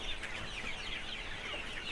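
Six-week-old broiler chickens cluck and chirp softly in a poultry house, a busy overlapping flock chatter at moderate distance with no talk.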